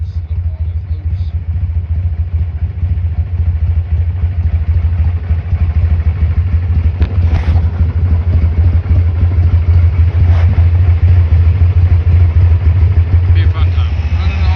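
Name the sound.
2003 Harley-Davidson Sportster 1200 motorcycle engine running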